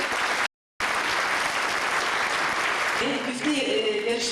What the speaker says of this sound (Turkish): Hepsine binlerce teşekkür ve büyük bir alkış diliyorum.